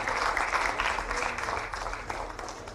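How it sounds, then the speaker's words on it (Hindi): A crowd at an official ceremony applauds the Chief Minister in steady, dense clapping that holds through the whole stretch, with no break and no voice over it. "जोरदार तालियां इसके लिए।"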